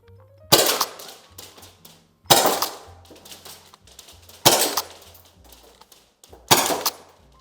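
A gas-powered G&G airsoft rifle fires four clear BB shots at roughly two-second intervals, each a sharp, loud crack followed by a brief mechanical rattle, close by and alone without talk.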